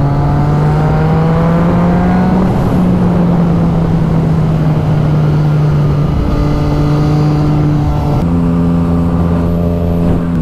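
A Ferrari engine revs loudly and steadily nearby, its strong harmonic drone rising and dipping through several throttle blips, with no voices over it.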